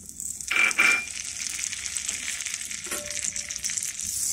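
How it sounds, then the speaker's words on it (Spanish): Butter melting over low heat in a frying pan, a soft sizzle and faint crackle with a couple of brief scraping touches near the start, fairly quiet and without talk. "Ahora en un sartén vamos a poner la mantequilla que se derrita a fuego lento para que no se nos queme."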